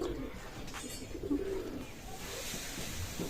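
Pakistani teddy pigeons cooing softly in a loft, low repeated coos over steady background noise with no talk.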